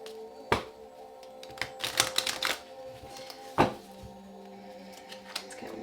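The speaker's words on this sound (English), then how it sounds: "Let's get one more card out of the Lenormand deck" A Lenormand card deck is handled up close, with sharp riffling clicks and taps of cards being shuffled and drawn, scattered across a quiet room background.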